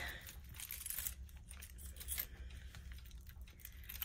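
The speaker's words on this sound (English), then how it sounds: "My husband's car key. And then my RV keys." Several keys, including a car key and RV keys, jangle and clink together inside a Betsey Johnson purse, a soft close-up metallic rattling that continues steadily for a few seconds with no one talking.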